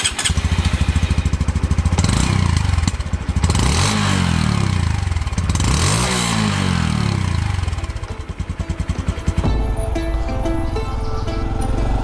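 A 2021 Honda Trail 125 motorcycle's small single-cylinder engine, rated 8.7 horsepower, runs steadily and close by for the whole stretch, its revs rising and falling in waves with a brief dip near the end, and no one talking.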